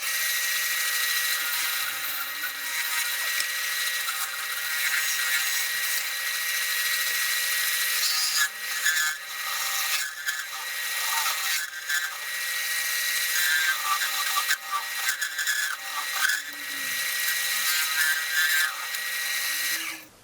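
A carbide cutter hollows out a wooden vase on a spinning lathe, producing a continuous close, hissing scrape with slight surges and dips as the tool bites into the wood.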